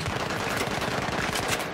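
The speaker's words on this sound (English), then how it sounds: "You're getting shot from C." Dense, continuous gunfire fills a large Battlefield-style multiplayer match on the Bazaar map, with rapid automatic bursts overlapping loudly and close throughout.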